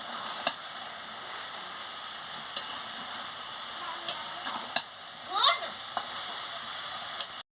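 Cabbage curry frying in a pan and being stirred, a continuous even sizzle with occasional spatula clicks and a brief scrape, close and moderately loud, no voices.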